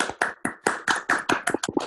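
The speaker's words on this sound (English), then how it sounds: "let's have one more round of applause" A round of applause from a small group on a video call, with a few people clapping unevenly in quick, slightly ragged bursts, heard close through computer microphones.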